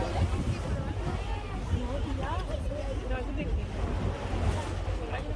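Open-sea waves and wind rumble continuously around a boat while people talk over the steady roar of water and gusts buffeting the microphone.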